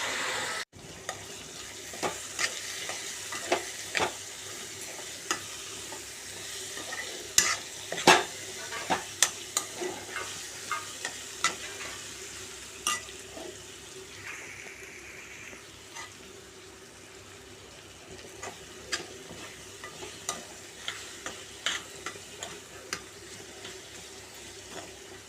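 Bitter gourd (spine gourd) curry cooks in a covered pan, giving a soft steady sizzle with scattered clicks and occasional stirring taps, fairly quiet and with no talking.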